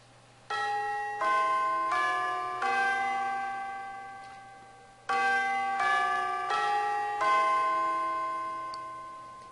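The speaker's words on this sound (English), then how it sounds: "Sounds more like church bells or something like that." Bells ring out in the horror game Misao, sounding like church bells or a chiming clock: two bursts of several overlapping resonant strikes, each ringing and slowly decaying, loud and clear with no talk over them.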